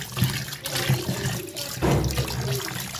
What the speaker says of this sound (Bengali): আমি সেজন্য আগে মাছগুলো ভালো করে জল দিয়ে